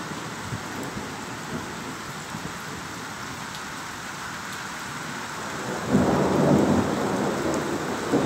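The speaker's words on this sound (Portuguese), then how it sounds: "E olha a chuva vindo agora de uma maneira mais firme." Heavy thunderstorm in Porto União, Santa Catarina: steady dense rain roars close by throughout, with a deep rumble of thunder swelling near the end as the downpour strengthens.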